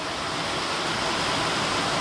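Heavy rain pours onto a flat office rooftop, with water running across it in a dense, steady hiss that stays loud and unbroken throughout.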